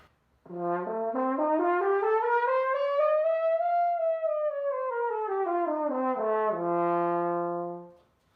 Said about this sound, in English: We call that the harmonic series, and that sounds like this.